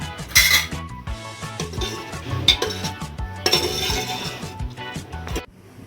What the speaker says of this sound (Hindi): इसको मिक्स कर रही हूँ।